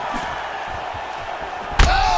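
A single sharp right uppercut lands in EA Sports UFC 3, a loud slam near the end after a stretch of steady crowd noise and commentary.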